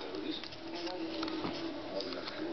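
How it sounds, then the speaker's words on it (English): A pet bird standing guard indoors makes soft cooing and chirping calls close to the listener, steady across the moment, with faint room noise around it. "Guard bird on duty."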